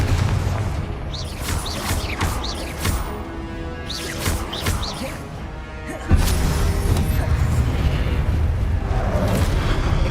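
Confringo fire-blast spell from a Harry Potter video game, a loud sudden boom near the six-second mark that jumps above a busy bed of spell effects and crashes, with continuous loud rumbling after it.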